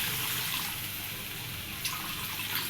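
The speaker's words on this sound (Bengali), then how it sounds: "ঝোলের জল দিয়ে দিলাম" Water pours steadily into a curry pan for fish curry, a continuous close splashing stream with no talk over it.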